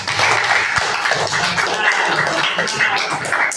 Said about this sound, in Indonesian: Tepuk tangan dulu buat kelas kita ini